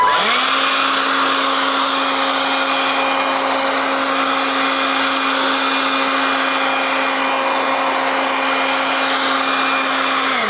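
An air blower dries a freshly detailed car, running as a loud, steady high-pitched whine with rushing air that holds constantly from start to finish.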